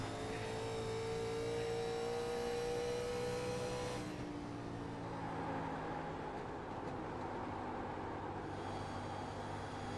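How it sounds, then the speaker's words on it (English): A race car's tires scream on the track at Dover during a Chop Shop Nationals race, a loud continuous high whine with engine roar that drops in pitch partway through and continues steadily. "Listen to those tires screaming."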